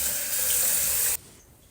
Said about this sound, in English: Let me wash my hands first before I touch my camera.